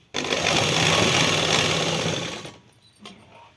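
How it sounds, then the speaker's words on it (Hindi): A sewing machine runs in one loud, steady burst of about two and a half seconds and then stops, stitching the leg of a pair of trousers. "अब हम देंगे इस पे सिलाई। एक पैर की सिलाई देंगे"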